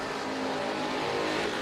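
Crate late model race cars from the Northern Crate Nationals roar around a dirt oval in a pack of four, a steady, loud blend of engine drone and revving with no one speaking.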